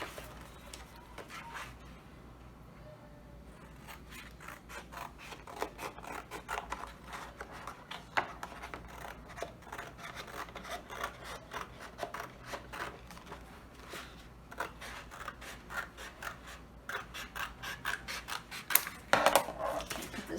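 Fabric ends are trimmed while making fabric storage boxes, giving quiet, rapid clicking snips that repeat throughout with no talking.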